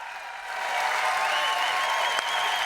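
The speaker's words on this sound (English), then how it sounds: "are you applauding this?" An audience at a live show swells into steady applause, a fairly loud, even wash of clapping that builds and holds.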